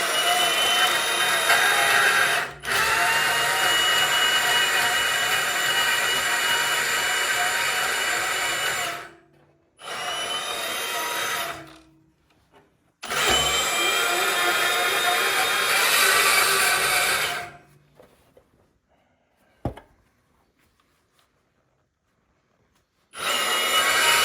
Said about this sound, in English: It's very important not to grind aggressively. It just destroys the cutting disc and overheats the stainless.